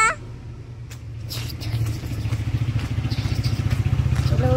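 A scooter or motorbike arrives to take a child to school, its engine putter growing steadily louder and settling into a rhythmic idle nearby.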